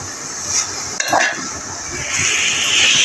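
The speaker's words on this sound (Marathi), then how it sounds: "भाजी थोडी हलवून घ्यायची आपण" Dill greens cook in a pan, with a steady, loud frying hiss and a spatula clink and stir partway through.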